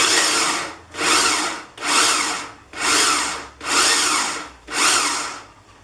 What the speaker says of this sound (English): Goes in my food processor.